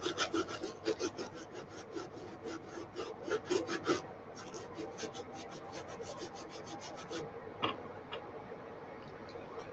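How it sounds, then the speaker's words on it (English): A brush scrubs over and under shoe laces during shoe cleaning, making quick rhythmic raspy strokes in steady bursts with a few short pauses, close and fairly loud, with no talking. "Trying to just scrub on top of these laces and get underneath them a little bit."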